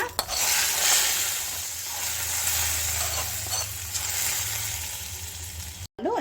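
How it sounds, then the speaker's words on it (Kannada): Hot tempering with curry leaves poured into boiling rasam for a Mysore-style rasam, giving a loud, steady sizzle and bubbling that runs for several seconds before a brief clatter near the end; no one speaks. "ಕುದಿಯೋ ರಸ ರಸಕ್ಕೆ ಹಾಕ್ಕೊಳ್ಳೋಣ"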